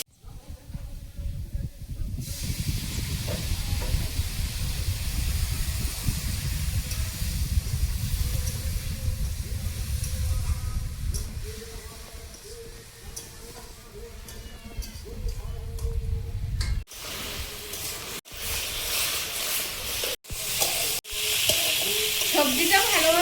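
Snake gourd sizzles and hisses steadily as it fries in hot oil in a pan, a loud continuous crackle that fades partway through, followed by scattered stirring and clattering sounds.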